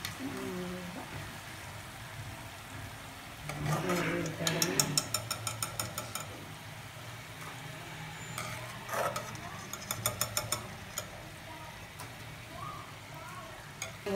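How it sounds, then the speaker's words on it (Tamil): Coconut milk murukku frying in hot oil sizzles softly throughout, while bursts of rapid, ratchet-like clicking come and go over it. "இந்த சலசலப்பு சத்தம் நின்ன உடனே முறுக்கை எடுத்துடணும்"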